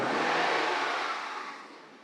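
An old BMW E34's two-litre M50 straight-six engine revs briefly and fades, a smooth mid-pitched roar that gradually winds down as the throttle is released.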